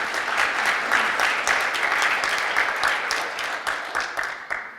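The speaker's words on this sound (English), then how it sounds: "please give a welcome applause to our experts panel" Audience applause welcoming an experts panel at a software security conference, a steady dense patter of many hands clapping that holds for several seconds and thins toward the end.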